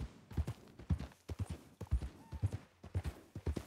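Rhythmic clip-clop of horse hooves in a video game, at a steady walking pace, close and distinct, with no voices.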